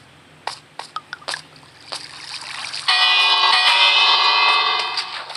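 A bell ringing in Minecraft, a sustained bright chime swelling in after a few soft clicks and taps, lingering loudly for a few seconds before easing off, with no talk.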